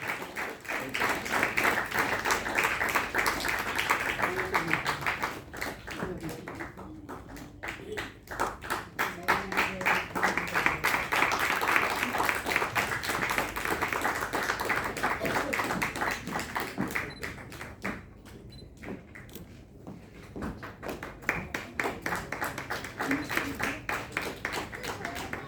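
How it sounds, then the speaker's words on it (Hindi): An audience at the Jain World Mission Awards ceremony claps in sustained rounds of applause that swell, dip briefly and pick up again over about twenty-five seconds, with a voice faintly under the clapping. "कृपया विभूति का स्वागत तालियों के साथ जोरदार तरीके से कीजिएगा"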